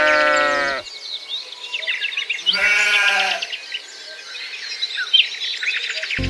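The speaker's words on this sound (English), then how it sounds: "A sheep is a gentle farm animal covered with soft wool." Two drawn-out sheep bleats on a farm, the first at the start and the second a couple of seconds later, with steady birdsong and chirping carrying on around them.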